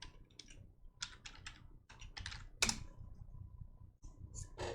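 Rapid clicking of computer keys in irregular bursts, with short pauses between flurries, close and moderately loud, no talking.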